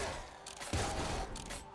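Auto mortar fire in the roguelike game Nuclear Throne, a short burst of blasts with a thumping impact midway, dense and loud with no talking.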